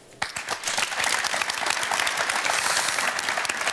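A studio audience on a German morning TV show claps steadily for nearly four seconds, starting abruptly and holding a dense, even roar of hands with no voices over it.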